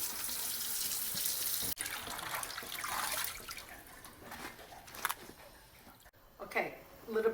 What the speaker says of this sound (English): Fill it up with the water and let's rinse it one more time